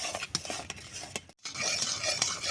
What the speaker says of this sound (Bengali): দুধটা এইভাবে নাড়তে হবে